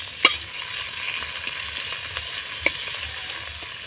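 Bay leaf, ginger and green chili tempering fry in hot oil, a soft, steady sizzle with a few sharp crackles and pops, close and alone without talk.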